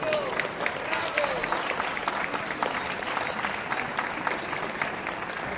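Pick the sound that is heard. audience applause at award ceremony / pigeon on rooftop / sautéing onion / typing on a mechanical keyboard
audience applause at award ceremony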